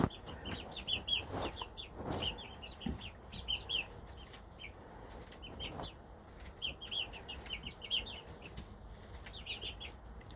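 Baby chicks and young turkeys in a homegrown poultry pen give repeated high, bright peeping chirps in scattered bursts, with soft wing flutters and low background rustle, moderately near.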